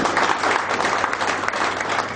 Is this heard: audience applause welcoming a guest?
yes